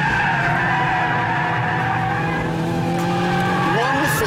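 Car tires squealing in a sustained power slide with electronic stability control engaged, a loud continuous screech over engine drone, with a brief voice near the end.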